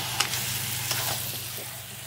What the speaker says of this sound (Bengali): দেখো এবার মাংসটা দিয়ে ভালো করে নাড়বো, মাংসটাকে ভালো করে কষিয়ে নিতে হবে।